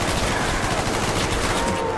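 Rapid continuous gunfire in Call of Duty Black Ops zombies mode, a dense unbroken stream of automatic shots held at steady loudness throughout.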